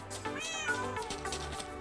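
Cats in Minecraft Java Edition let out a couple of close, drawn-out meows in a row, over a faint backdrop of game music.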